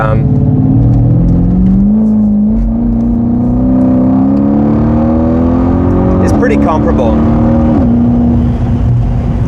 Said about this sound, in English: I never get tired of hearing that engine.